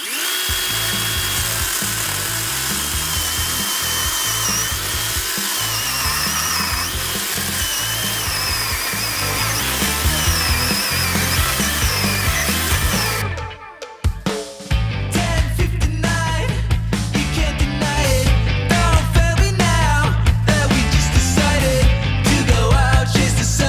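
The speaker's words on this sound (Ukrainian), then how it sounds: "погнали тест пилки на один акумулятор, поставив акумулятор 6 ампер годин" A Dnipro-M DCS 201 BC cordless chainsaw runs at a loud steady whine, briefly stops, then restarts and bites into a log, the cutting sound rough and fluctuating, close up, with no talk.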